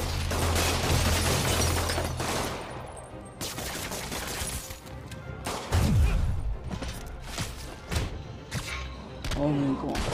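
Bursts of gunfire and thuds from combat in the Spider-Man PS4 video game, several loud shots and impacts mixed with game sounds and a voice talking.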